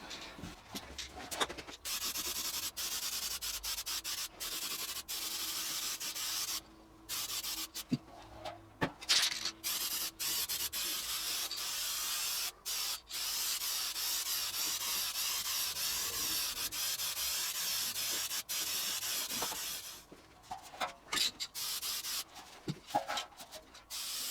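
Black satin spray paint hisses from an aerosol can in long, steady bursts broken by short pauses, loud and close, with no one talking.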